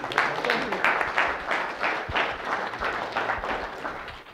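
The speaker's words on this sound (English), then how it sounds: "Big round of applause for the lady." An audience applauds for a woman at a mind-and-body healing session, a dense burst of clapping heard nearby that holds steady for a few seconds.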